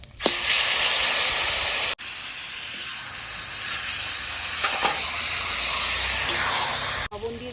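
Taro leaves (kochu shak) dropped into a hot pan of spiced oil with bay leaf and grated ginger, giving a loud, steady, close sizzling hiss that runs on with brief breaks.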